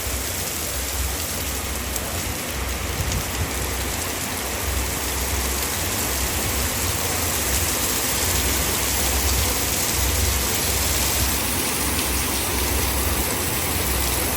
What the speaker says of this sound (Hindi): बहुत तेज बारिश